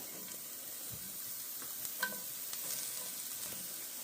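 Thinly sliced onions fry in a little oil, giving a soft, steady sizzle with occasional light stirring clicks and scrapes, fairly quiet and without talk.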